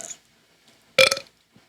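A loud, sudden burp from a child eating, one sharp close eruption with a short trailing tail, preceded by faint murmuring and followed by near silence.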